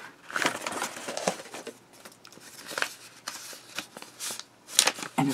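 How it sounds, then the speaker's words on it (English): Packing paper crinkles and rustles as a mail package is unpacked, a steady run of close, crisp crumpling and brushing sounds with a few sharper rips and crackles near the end. "Paper and more paper."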